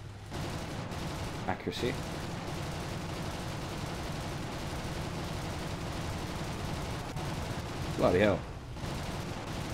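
Tank guns firing in War Thunder, with a steady rumble of combat and a few sharp gun reports standing out, someone talking briefly over the action.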